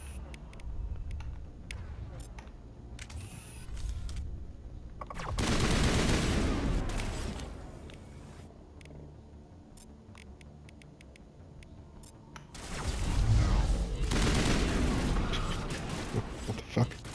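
Assault rifle gunfire in Mass Effect Legendary Edition, sustained automatic bursts that swell into two long loud stretches, with someone talking over the shooting.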